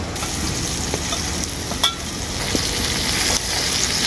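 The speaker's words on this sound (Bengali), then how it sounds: "ঝাল কাঁচা লঙ্কাটাও আমি সবজির সাথে খুব ভালো করে ভেজে নেব।" Vegetables with green chillies stir-frying in a pan for egg chow mein give a steady, loud sizzle with occasional scraping stirs, close and continuous without any talk.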